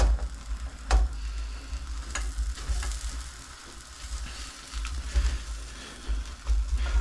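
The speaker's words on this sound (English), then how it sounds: "This is high heat, so I'm gonna let them cook a little bit more." Beans frying in a pan over high heat, a steady sizzle running throughout with a few sharp crackles and pops, close and fairly loud, no talking.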